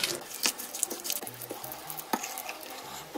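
Soft wet stirring and squishing of Korean seasoning sauce with minced garlic, chili powder, sesame oil and sesame seeds being mixed, heard up close as irregular light pats and smears with no talking.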